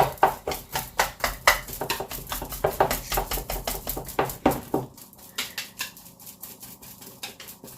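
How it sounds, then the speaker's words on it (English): A whisk clacks rapidly against a bowl while mashing bananas for Jamaican banana bread. Close, loud, rhythmic strokes repeat throughout and ease slightly in the second half. "I'm gonna use the whisk."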